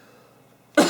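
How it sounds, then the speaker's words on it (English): After near silence, a single sharp, close cough bursts out at the very end. "you're just gonna listen to me cough instead"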